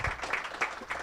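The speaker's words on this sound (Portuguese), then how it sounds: "Eu peço aqui uma salva de palmas" Audience applause at a business administration congress panel on AI after a presentation, a dense, steady wash of many hands clapping at moderate loudness.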